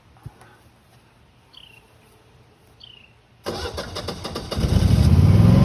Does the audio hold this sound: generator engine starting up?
yes